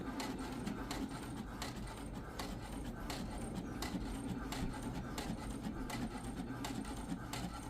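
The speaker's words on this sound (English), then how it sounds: "And here we go, printing." An HP inkjet printer printing stickers, heard as a run of rhythmic mechanical clicks and whirring carriage passes at a steady moderate level, alone without talk.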